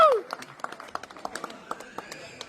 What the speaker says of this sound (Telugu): చప్పట్లు గట్టిగా.